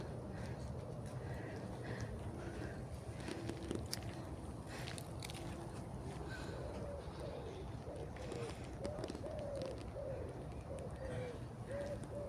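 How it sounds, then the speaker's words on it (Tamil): Small birds chirp and call by a riverbank in the evening, short scattered notes over a constant low outdoor rumble, fairly faint, with a voice speaking at times. "குருவி கத்துது,"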